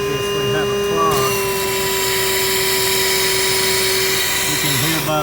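A clogged vacuum strains against a blockage in a Trane unit's drain line, giving a loud, steady, laboring drone with a constant tonal hum that runs the whole time before a brief shift at the end.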